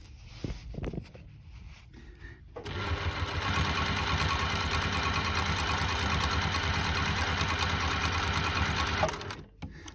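An industrial sewing machine stitching through folded denim starts after a few clicks and runs as a fast, steady, continuous whir for several seconds before stopping abruptly.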